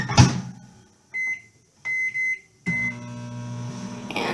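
A microwave oven cooking a pasta bake: a thud and clatter as the door shuts, a few short electronic beeps from the keypad, then the steady hum of the oven running, close and without voices.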